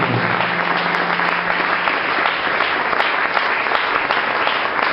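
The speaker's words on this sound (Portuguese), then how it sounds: "Uma salva de palmas em nome de Jesus, Senhor." Congregation applause at an evangelical vigil service, a loud continuous roar of many hands clapping that stays even throughout, with a faint low tone at the start.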